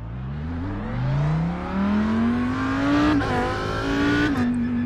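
In the iRacing sim, an Audi R8 races at Daytona with a loud, close exhaust note rising steadily through the gears and a brief dip at a shift before climbing again, with no talking over it.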